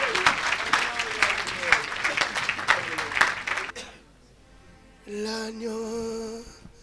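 A church congregation bursts into sustained applause and cheering, dense and loud, which breaks off abruptly and gives way to sustained tones and a voice.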